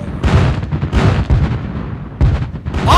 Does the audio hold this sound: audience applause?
no